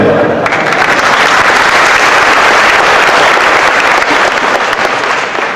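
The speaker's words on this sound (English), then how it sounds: "Give him a clap." Audience applause at a post-election analysis dialogue, a loud, sustained patter of many hands clapping close by, continuous throughout with no pauses.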